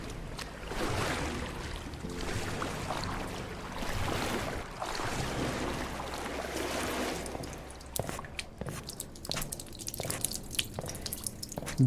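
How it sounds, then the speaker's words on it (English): Water dripping in a horror video game, a wet trickling wash that turns into a run of separate, irregular drips near the end, with no voices over it. "Dripping sounds."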